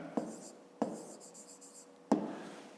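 Writing out a remainder on paper during a fifth-grade math exercise: a few sharp pen taps with faint scratchy strokes between them, close and quiet, with no talking.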